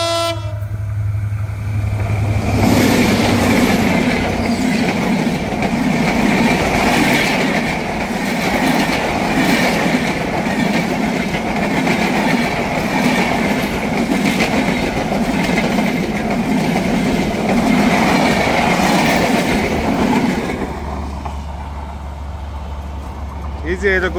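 A train rumbles past on a railway line close by with a loud, sustained roar, rattling wagons and a horn, then fades out after about twenty seconds into a quieter low hum.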